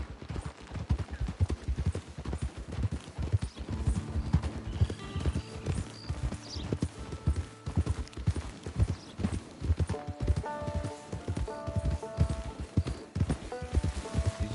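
Several horses trotting along at a camp, steady overlapping clip-clop hoofbeats close by with an occasional whinny and neigh cutting through, continuous for the whole stretch.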